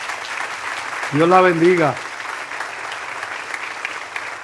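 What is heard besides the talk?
audience applause in church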